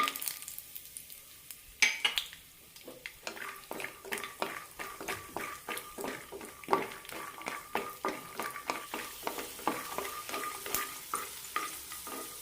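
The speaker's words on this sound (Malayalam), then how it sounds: "പാനിലേക്ക് ഒന്നര ടേബിൾ സ്പൂൺ എണ്ണ വെച്ചിട്ടുണ്ട് ഇതിലേക്ക് കടല ഇട്ട് കൊടുക്കാം" Peanuts sizzling in about a tablespoon and a half of oil in a pan while a spoon stirs and scrapes, with a steady crackling fry and repeated soft clinks and scrapes, heard close and with no talk.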